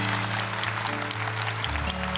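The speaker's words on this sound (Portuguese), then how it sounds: "Quem crê nessa palavra, dê uma salva de palmas bem forte ao nosso Senhor." Congregation at a Catholic Mass clapping loudly for the Lord, steady dense applause over sustained organ or keyboard chords.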